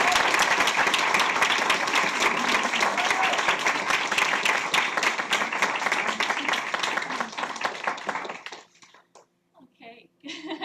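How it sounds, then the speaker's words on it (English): A graduation audience at a dietetic practicum ceremony gives loud, dense, sustained applause that fills most of the clip, then breaks off abruptly near the end into quiet with a few scattered sounds. "Please join me in a round of applause to congratulate our 8 exceptional graduates."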